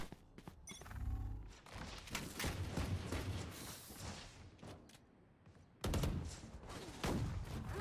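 Bursts of rifle fire and sharp shots ring out in a round of the tactical shooter Valorant, quiet overall, with a strong burst early, a sustained volley, a short lull, then renewed shooting.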